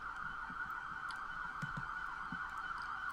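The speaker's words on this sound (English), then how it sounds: "Oh, is it the sirens? Yeah, they're like super loud." Emergency vehicle sirens outside an open window give a steady, faint wailing tone that holds unbroken, with a little low background noise.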